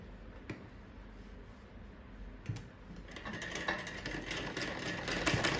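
Sewing machine stitching a folded one-inch hem on shorts, a steady mechanical whir with rapid needle ticking that grows louder and busier midway, no talk.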